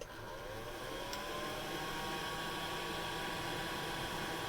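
A cordless hot air gun running on its lowest level gives a steady, faint, broadband fan whoosh with a soft motor hum, continuous and unchanging, with no talking.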